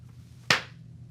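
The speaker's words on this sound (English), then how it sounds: "Would you kindly clap your hands?" A single sharp hand clap, close and alone, rings out once against a faint low hum.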